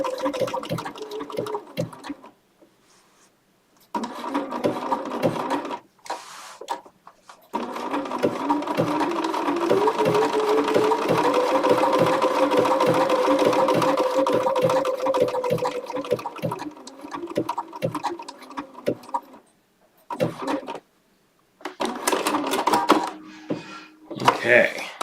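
A Bernina sewing machine stitching in a workshop, its motor running in a long steady stretch of rapid, close needle strokes, with shorter starts and stops before and after.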